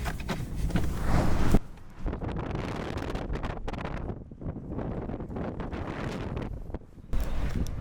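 Strong coastal wind at the Mull of Galloway, Scotland, buffets the microphone in a heavy, roaring rush, surging loudly at the start and end with steady blustering in between.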